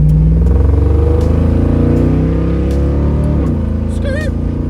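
A 1978 Camaro's small-block Chevrolet V8 roars loud and close as it pulls hard after a downshift, with engine pitch climbing steadily and then shifting near the end.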